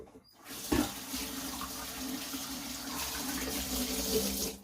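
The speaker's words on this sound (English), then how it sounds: "So let me just 2 seconds and wash my hands" Hands are washed under a running kitchen tap, a steady close rush of water with a brief clunk near the start and the flow continuing unbroken to the end, with no voices.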